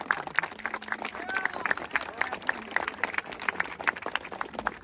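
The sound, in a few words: applause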